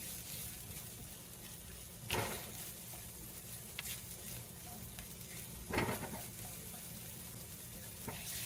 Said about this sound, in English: we're going to cook this until the onions are translucent